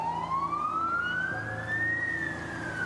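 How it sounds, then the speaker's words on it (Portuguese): An ambulance siren wails, rising and falling steadily at a distance, sounding thin against a low background hum. "A sirene do SAMU começou a ecoar na distância"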